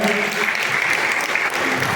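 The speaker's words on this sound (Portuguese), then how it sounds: "Uma salva de palmas para o nosso pastor." Church congregation gives a loud, sustained round of applause for the pastor, with dense clapping and a voice talking over it.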